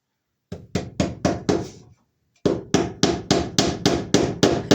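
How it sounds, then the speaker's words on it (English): Staples being hammered to fix electrical wire in place, a close series of sharp evenly spaced knocks, five blows, a brief pause, then about nine more in steady rhythm, with no talk. "And we'll staple our wire into place."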